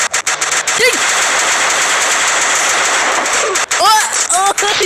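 Loud, continuous bursts of automatic gunfire in a Roblox World War I game, rapid shots in close succession with a voice speaking excitedly over them.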